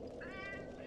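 Rascal, a pet cat, gives one short mid-pitched meow over a steady background din with game sounds close by.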